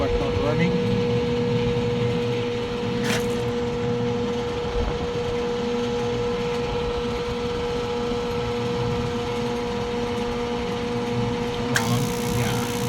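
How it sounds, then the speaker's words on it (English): A stalled venter motor on a York rooftop heating unit with no heat drones with a steady electrical hum and buzz, never spinning up. The tone stays constant from start to end, with a couple of faint clicks. "Venter motor is making a noise but not running."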